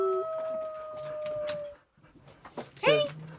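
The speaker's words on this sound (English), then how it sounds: "does something that's called ruing. It's a greyhound thing. It's not howling, it's not baying." A greyhound roos, a long, rising and falling howl-like call, loud and close with a held pitch that breaks off, then returns as a brief wavering cry. Light background noise sits beneath it.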